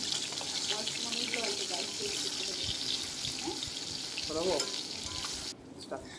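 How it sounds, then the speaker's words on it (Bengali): Pieces of catla fish frying in mustard oil give a loud, close, continuous sizzle with bubbling crackle. A faint voice murmurs underneath, and the sound drops off abruptly near the end. "সর্ষের তেলের মধ্যে এক এক করে মাছগুলো দিয়ে ভালো করে ভেজে নেব"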